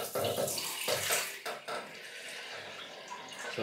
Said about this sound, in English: I forgot to put water in the bowl.